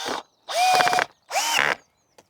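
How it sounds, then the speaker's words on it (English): Drill chuck being loosened to change a bit while working with recycled wood at an allotment, giving three short mechanical bursts of rapid ratcheting clicks, close and fairly loud, with a tiny tick at the end and no talk. "I do need to change my drill bit"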